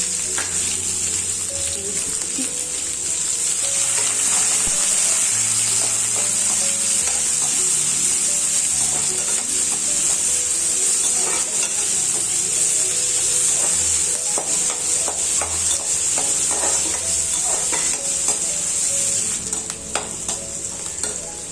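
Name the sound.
onions being sautéed and stirred in a pan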